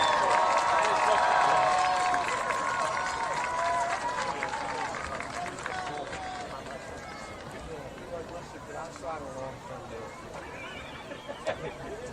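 A large crowd cheers and claps loudly at first, the roar gradually fading into scattered applause and general crowd noise.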